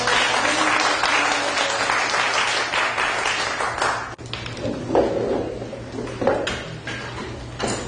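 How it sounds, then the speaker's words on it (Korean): An audience at a leadership lecture applauds the speaker with a dense, steady round of clapping that thins into scattered claps after about four seconds. "이런 강의를 해주실 우리 정인경 부위원장님께 큰 박수를 올려드리겠습니다."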